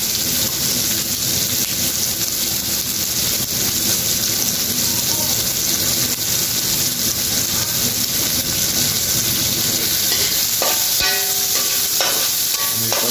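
Onions fry and sizzle loudly in a hot pan while being stirred, a steady dense crackle throughout with a few clinks of the utensil near the end, for an octopus dish.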